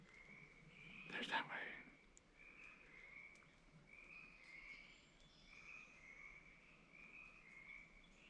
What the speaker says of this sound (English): I'm gonna get you some more frog noise.